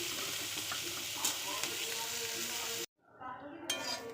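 Ivy gourd (kovakkai) frying in oil in a pan, a steady close sizzle with occasional stirring clinks, cutting out abruptly near the end before the sizzle resumes.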